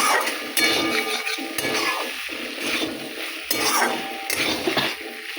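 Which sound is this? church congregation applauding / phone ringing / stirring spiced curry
stirring spiced curry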